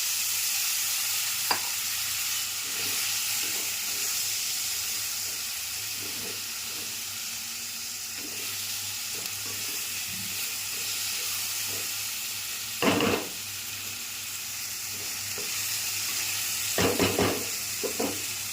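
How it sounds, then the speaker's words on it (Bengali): A tempering of lentils, potato and oil mixed together sizzles steadily in a pan, a continuous frying hiss with a few louder spatters and bursts of stirring near the end. "হয়ে গেলে ওই যে মুসুরির ডাল, আলু, তেল একসঙ্গে মাখিয়ে রেখেছি,"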